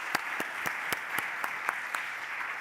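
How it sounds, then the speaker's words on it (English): Scattered applause from a conference audience for the presenters in a large hall, with a steady wash of claps and a few sharper individual claps standing out at a regular pace, moderately distant and fairly soft. "A big round of applause for all the presenters."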